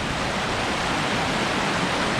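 A strongly flowing clear creek near old stonework railroad bridge ruins rushes in a dense, steady, broadband roar, close and continuous with no voices.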